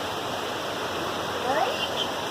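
A creek swollen by heavy rain rushes in a steady, loud, broadband roar that never lets up through the short clip.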